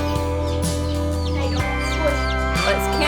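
Baby chicks and turkey poults chirp in a brooder, a dense run of short high peeping calls, close and continuous, with brief faint handling noises.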